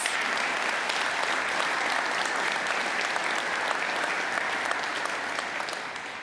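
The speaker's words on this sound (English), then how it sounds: "We'll give you a live applause." Sustained applause from a live audience at a potato industry event, dense and even throughout, loud and fairly near, tapering slightly at the end.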